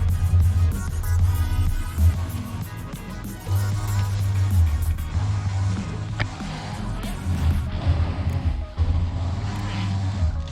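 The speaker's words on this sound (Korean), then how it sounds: "지금 이 소리는 타이어 때문에 나는 소리이고요" Steady low tire roar from a moving Hyundai Grandeur IG Hybrid, a continuous rumbling drone with slight swells and dips throughout.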